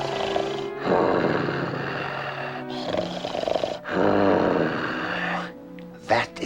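A storybook ogre's snoring, a low, rough growling that swells in long loud rumbling bursts with brief pauses between breaths, close and steady, apparently voiced by a performer imitating the sound.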